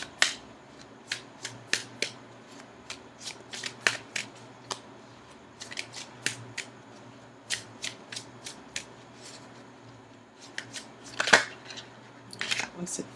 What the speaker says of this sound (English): Now I'm going to go ahead and shuffle for an outcome card.